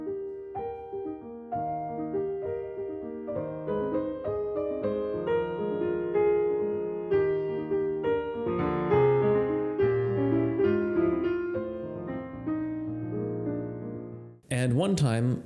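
A solo piano plays Schumann's Schlummerlied with very little sustain pedal, the accompaniment crisply articulated under a steady flowing melody, close and moderately loud for about fourteen seconds before a short noisy break at the end.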